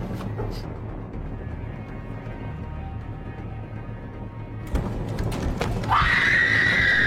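A woman's scream bursts out near the end, loud and shrill, sustained over a constant background rumble, with a sharp knock just before it.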